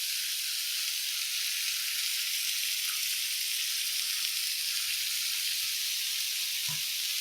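Chicken tangidi kabab fries in oil or melted butter in a pan, giving a loud, continuous close sizzle that holds steady throughout, with a faint knock near the end.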